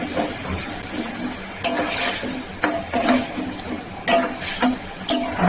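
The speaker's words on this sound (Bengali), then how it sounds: "যে নারকেলটাকে পেস্ট করেছিলাম ভেজে নেব মশলার সাথে" Coconut paste fries with spices in a pan for a coconut prawn dish. A steady sizzle runs under repeated scraping and clinking from a spoon against the pan, close by, with no talking.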